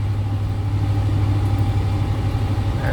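A 1993 Chevrolet K1500 WT pickup cruises down a road at steady speed on cruise control, its engine giving a constant low rumble and drone with road noise, even and unbroken throughout, with no voices.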